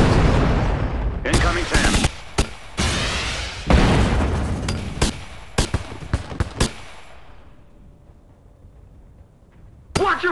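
Gunfire in the video game Drone 5: Elite Zombie Shooter comes as loud, sharp bursts of shots and booms in uneven clusters, then a lull, with radio voices shouting over it.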